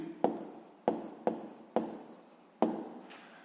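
A pen on paper writes in five short, crisp bursts a second or so apart, each starting sharp and trailing off, close and alone in a quiet room.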